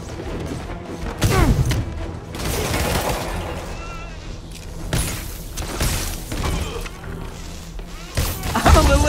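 Gunfire in Marvel's Spider-Man Remastered video game pops in scattered volleys, mixed with crashes, thwacks and game music throughout, loud and busy.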